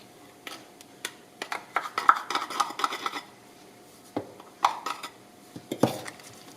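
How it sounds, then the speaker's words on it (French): A spoon clinks and scrapes against a bowl while gluten-free pizza dough of corn flour, potato starch, melted butter and salted water is stirred together, in irregular bursts of knocks and scraping with brief pauses. "on mélange tout à l'aide d'une cuillère afin d'obtenir une boule de pâte"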